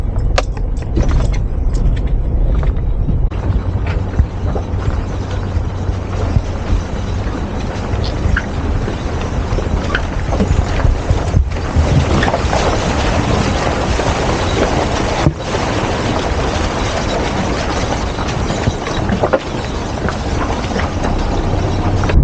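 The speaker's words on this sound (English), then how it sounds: "Right, first creek crossing coming up." A 4WD vehicle rolls through a creek crossing on the corrugated Gibb River Road, with a steady loud engine and road rumble, rattling cabin noise and sloshing, jolting texture throughout.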